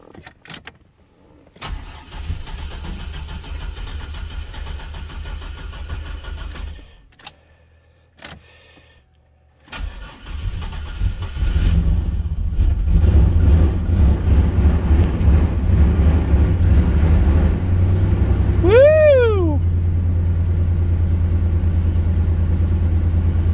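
A junk Chevy S10 pickup truck cranks over in short bursts with pauses, then catches on a cold start and settles into a loud, rough, steady idle, with a brief rising whine near the end.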